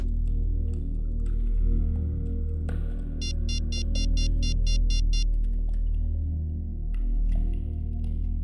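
Telephone ringing as a call is placed: a rapid series of high electronic ring pulses lasting about two seconds, rising over a steady low room drone.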